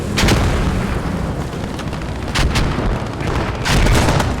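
Bren light machine gun firing in a World War II strategy game battle, loud dense bursts of gunfire blending with mortar booms and rumbling explosions, no talking.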